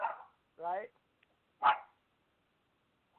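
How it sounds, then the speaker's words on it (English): A dog barks several times in a home setting, with short bursts spaced across a few seconds, fairly close and loud, separated by near silence. "My dog wanted to say hi."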